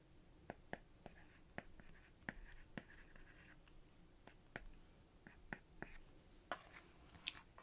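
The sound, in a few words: drawing with a stylus on a tablet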